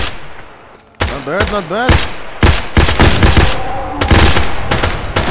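Rapid automatic gunfire bursts crackle loudly in a STALKER roleplay video game, several sharp volleys following one another, while players talk over the shooting.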